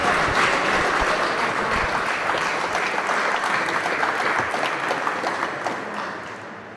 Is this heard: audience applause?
yes